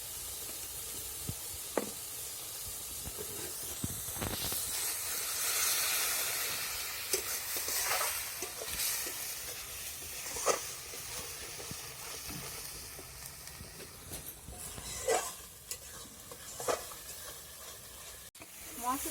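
Spice paste with turmeric frying in oil in a pan for a Bengali fish dish, a bright crackling sizzle broken by repeated stirring scrapes and knocks of the spatula, with no talking.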